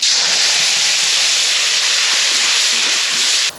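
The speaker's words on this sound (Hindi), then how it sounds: "हाँ, तड़का लगा रही हूँ, चटनी, टमाटर की चटनी" Tadka for tomato chutney with onion, chilli and turmeric hitting hot oil, a loud, close, continuous sizzling hiss that cuts off abruptly at the end.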